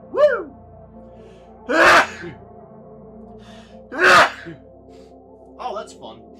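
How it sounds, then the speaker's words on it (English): Two loud, close sneezes from a person burst out with gasping intakes before each, followed by a smaller sniffing exhale at the end. "Oh, don't you just love sneezing?"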